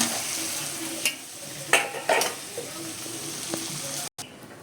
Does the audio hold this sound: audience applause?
no